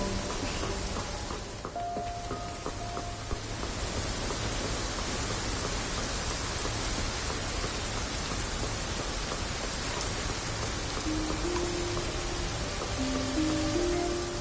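Steady rain falling in Infinity Nikki, a continuous dense hiss of drops on surfaces with soft musical tones faintly underneath, even and unbroken throughout.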